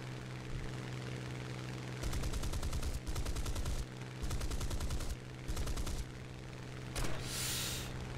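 Rapid bursts of machine-gun fire rake a Sea Hurricane Mk Ic fighter during a War Thunder air battle, several loud clattering volleys in quick succession over a steady engine drone, with a brief hissing blast near the end.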